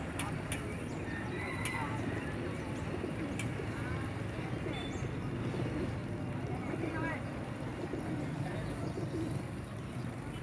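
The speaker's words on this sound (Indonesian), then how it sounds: "sekelompok anak-anak lebih tertarik bermain dengan burung merpati" Busy outdoor animal market in an Indonesian village, where children play with pigeons: soft pigeon cooing and scattered bird calls sit in a dense, steady hubbub of crowd noise, with a possible horse sound in the mix.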